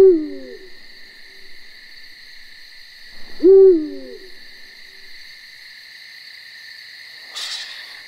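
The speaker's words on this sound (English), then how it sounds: "the male's mating call can be heard from great distances" Two deep, resonant hoots of a male eagle owl's mating call, spaced a few seconds apart, carrying over a steady high insect drone, with a short rustle near the end.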